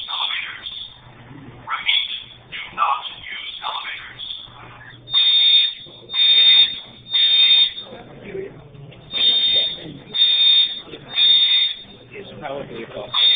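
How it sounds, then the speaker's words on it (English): A buzzing fire alarm sounds in a Berkeley Lab office in repeated harsh pulses of about a second, loud and evenly spaced, over ongoing talk. "fire alarm."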